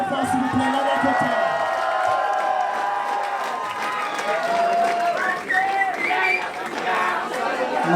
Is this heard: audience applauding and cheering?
yes